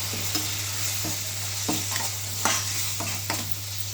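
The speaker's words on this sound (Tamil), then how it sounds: "சேர்த்து நல்லா கலந்துக்குங்க. நல்லா வதக்கிக்கோங்க." Chilli powder, coriander powder, turmeric and garam masala are stirred into hot oil for a vegetable kurma, giving a steady close sizzle. A spoon scrapes the pan every half second or so, and no one speaks.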